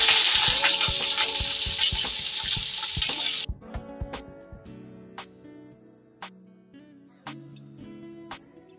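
Onion frying in a kadhai: a loud, hissing sizzle bursts up as the onion hits the oil, then drops to a softer crackle broken by scattered spoon clinks.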